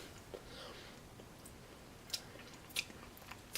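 Faint, close chewing and soft mouth sounds from someone eating vegan mayonnaise off a spoon, with a few brief sharp clicks in a quiet room.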